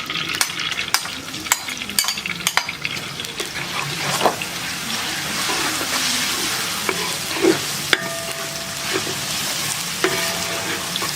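Ginger-garlic paste fries in a pan over a village wood-fired stove, a continuous sizzle broken by sharp scraping stirs and clicks, with a few faint tones in the background.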